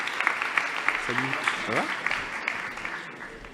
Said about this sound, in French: On peut les applaudir, hein.